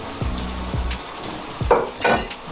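Onions go into a thickened pork steak sauce for Filipino pork steak Tagalog, giving a few low thuds and clinks of food and utensils against the pan, then a brief louder sizzle and stirring near the end, with no talking.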